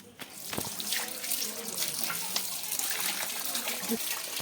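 Running tap water splashes steadily over snakehead fish being washed in a sink, a close, continuous gush with occasional clatter.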